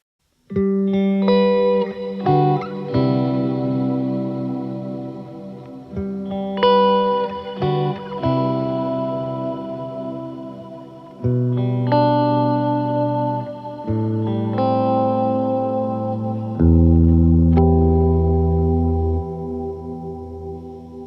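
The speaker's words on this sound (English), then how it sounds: "Let's listen with the normal guitar and the reverb first." Electric guitar chords ring out one after another, each washing into a long, lush reverb tail that blurs into a sustained pad.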